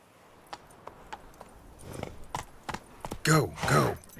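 Roach, Geralt's horse in The Witcher 3, clip-clops with a few spaced hoofbeats on hard ground, then snorts and whinnies loudly up close at the end.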